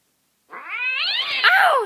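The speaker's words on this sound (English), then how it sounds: "Crazy cats. Street cats." A street cat lets out one long, loud, close caterwauling meow that bends upward midway, starting abruptly after half a second of silence.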